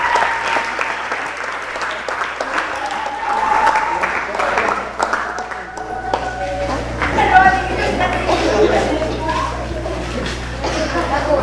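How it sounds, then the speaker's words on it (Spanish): An audience applauds at the end of a jungle theatre performance of Peter Pan, sustained clapping from a crowd with children's voices and cheering mixed in. "¡Otro aplauso!"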